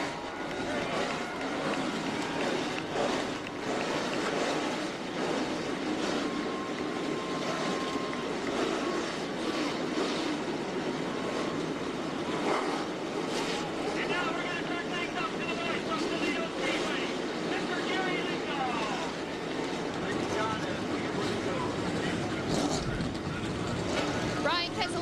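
Race car engines starting and idling at the Hantz Group 200 in Toledo, Ohio, a continuous loud mechanical rumble and whine from several cars filling the whole stretch, with a public-address voice talking over it.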